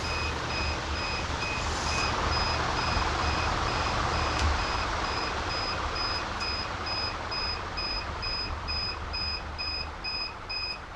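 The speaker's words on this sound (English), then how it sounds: "The alarm's going off, so we have something happening." A duck egg incubator's alarm sounds as a steady series of evenly spaced high electronic beeps over a constant loud fan hum, with no voices.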